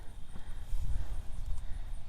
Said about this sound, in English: He even has to trot fancy.